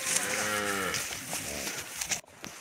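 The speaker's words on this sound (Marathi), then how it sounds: "आता गाई चालत पुढं" A herd of native village cows climbing a mountain pass on foot lets out a few deep, drawn-out moos close by, with faint ambient noise underneath.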